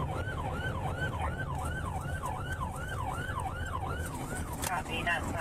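Emergency vehicle siren wailing in a steady rising-and-falling cycle, loud and continuous throughout, over low traffic rumble on a road during a pursuit of a vehicle driving on the wrong side.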